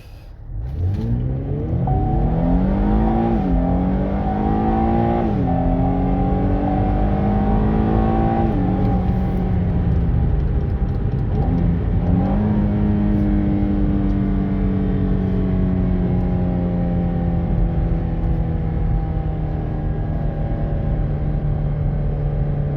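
Cadillac ATS-V pulling away from a light and accelerating hard through several gears, its engine tone climbing, dropping at each shift, then climbing again, before settling into a steady loud cruise drone; no talking.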